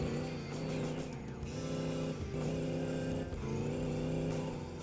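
A supercharged EFI V8 sleeper truck making about 900 horsepower accelerates hard downhill in third gear. Its loud, close engine roar climbs in pitch in repeated pulls, with brief dips as it shifts.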